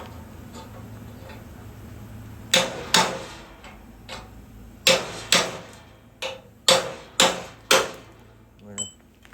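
Hammer blows knock rivets out of a truck frame crossmember in a workshop, with sharp ringing metallic strikes coming singly and in quick bursts, loud and close, under quiet ambient noise.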